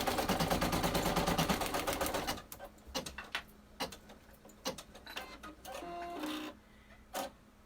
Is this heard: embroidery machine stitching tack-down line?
yes